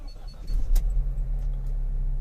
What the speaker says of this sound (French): je vais mettre le véhicule en route